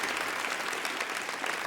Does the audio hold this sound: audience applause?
yes